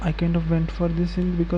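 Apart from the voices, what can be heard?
None of the usual background noises is heard.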